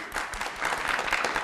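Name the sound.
audience applause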